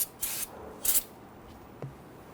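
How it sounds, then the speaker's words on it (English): Short hissing bursts of spray solvent clean residual brake fluid off the outer front brake hose fittings of a 2008–2013 Infiniti G37, two quiet close sprays followed by faint handling sounds. "Use some spray solvent to clean up any of that residual brake fluid."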